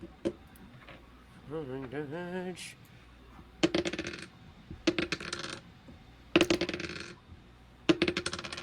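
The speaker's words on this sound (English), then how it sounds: "I love the sound of real dice." Real dice clatter onto a table in sharp, scattered bursts of rattling clicks, several separate rolls spaced a second or so apart, with a brief voice heard early on.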